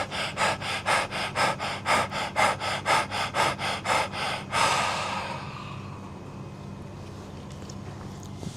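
A run of quick, forceful breathwork breaths during a morning routine for ankylosing spondylitis, sharp and close in an even rhythm, ending in a longer exhale before near silence.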